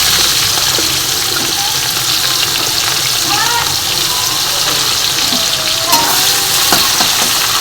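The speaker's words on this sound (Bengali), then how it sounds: "এবার পেঁয়াজ কুচানোটা দিয়ে দিচ্ছি।" Chopped onions drop into hot oil already holding dried red chillies and cardamom, and a loud, close, continuous sizzle crackles along with faint stirring scrapes and small pops.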